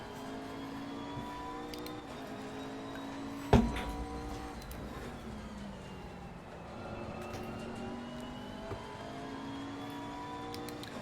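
A McLaren GT race car engine in Assetto Corsa Competizione, a steady mid-distance drone of engine note with a brief sharp knock near the start and gentle pitch shifts as it holds a moderate pace, no talk.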